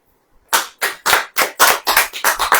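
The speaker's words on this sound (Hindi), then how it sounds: "ताली बजाओ।" An audience at a church sermon claps in unison, about ten sharp, loud, evenly spaced claps in a steady rhythm following a brief silence.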